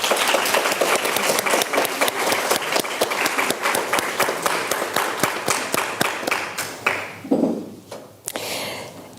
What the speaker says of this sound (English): let's have an round of applause for them as well.